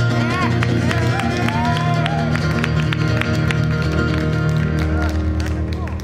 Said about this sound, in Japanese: 手拍子して終わりましょ